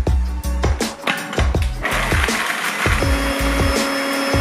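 Food processor pulsing Oreo cookies into crumbs for a no-bake Nutella cheesecake base, with rapid repeated motor bursts and a rattling, grinding chop of the cookies, loud and close with no talking.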